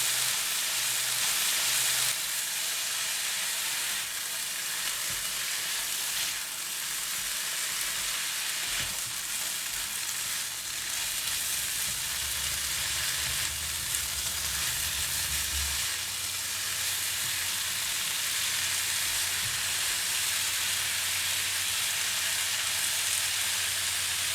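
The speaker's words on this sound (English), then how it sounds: "Add in spring onions and continue to stir until well combined." Bean sprouts and spring onions sizzle steadily in a hot pan while being stir-fried, a continuous bright frying hiss with occasional stirring scrapes, close and unbroken, with no talking.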